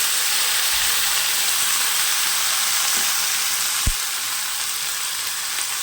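Taro (kochu) curry frying in a pan, a loud, close, steady hissing sizzle that holds unbroken throughout, with one sharp tap partway through.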